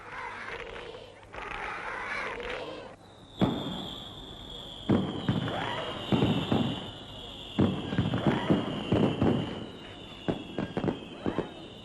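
Fireworks crack and pop in scattered bursts at Kuwait National Day celebrations, some in quick clusters, over a steady high whine and distant background noise.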